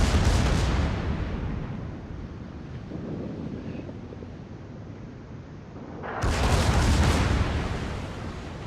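Warship secondary guns fire in a naval battle video game, heavy booming blasts with a rushing roar, a loud burst at the start and another around the six-second mark, with a low rumbling wash between them.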